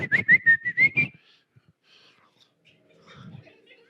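A man gives a string of short, bright whistles that rise in pitch like a catcall, loud and close, followed by quiet with faint murmuring.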